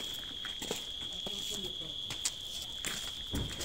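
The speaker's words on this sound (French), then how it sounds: "Le chant des grillons et des grenouilles nous rappelle que nous sommes bien arrivés en Afrique, au Cameroun." Crickets trill at night on arrival at a house in Cameroon, a faint, steady high-pitched drone running throughout, with scattered soft clicks and rustles nearby.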